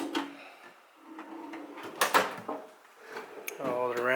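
New toolbox drawers slide open and shut in a garage, giving several separate clunks and rolling slides, with someone talking between them.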